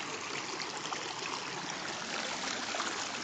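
A small urban river stream, the Witt and Trub confluence, flows past a riverbank with a steady, soft, broadband rushing and trickling that stays even and quiet throughout with no voices.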